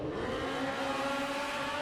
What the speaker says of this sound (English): hammers that motorcycle